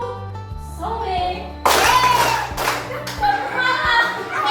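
A classroom of children clapping their hands in time with a group chant, the claps sharp and rhythmic among loud young voices speaking together, close and lively.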